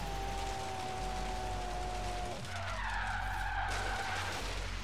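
Tire skid from a 545 hp RB26DETT R33 GT-R drifting in Forza Horizon 3: a loud, continuous tire squeal over steady engine drone, the pitch shifting midway as the slide changes.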